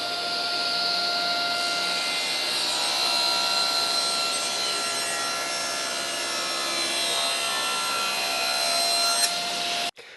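Table saw ripping a board held against the fence, a loud continuous whining cut with steady blade roar for about ten seconds, ending abruptly as the piece clears the blade.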